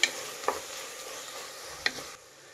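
Green chillies and turmeric powder being stirred in a pan, with a few distinct scraping knocks of the spoon over a faint sizzle, then a quieter tail.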